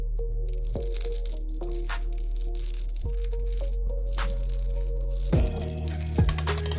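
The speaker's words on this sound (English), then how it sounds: "get a bunch of Lego heads and move them around" Several Lego heads being shuffled and moved around, producing sharp plastic clicks and clacks at irregular intervals, close up and alone.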